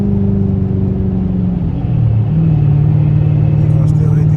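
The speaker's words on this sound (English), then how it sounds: "Why is he still hitting the gas for?" A car engine revs in traffic as the driver presses the gas, a loud steady rumble with pitch rising and falling, close by and continuous throughout.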